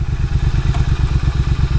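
A Harley-Davidson with slip-on exhausts idling loud and close, a deep lumpy rapid pulsing throb with rattling clatter, steady throughout.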